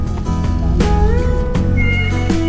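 A cat meows loudly and close by, giving several drawn-out, wavering meows in quick succession with no speech over them.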